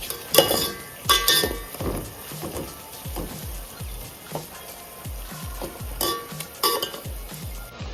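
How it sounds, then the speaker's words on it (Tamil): Onions sautéing in a pan, stirred often: a low sizzle sits under repeated clinks and scrapes of a spoon against the metal, in bursts throughout. "வெங்காயம் நல்லா வதங்குது நல்லா வதங்கணும்"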